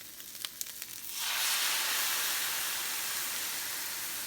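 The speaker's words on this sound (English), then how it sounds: "Now let's add that white wine." Dry white Chardonnay hits a hot pan for shrimp scampi, breaking into a loud, steady hiss and sizzle after a few small pops, then holding a broad, sustained crackle.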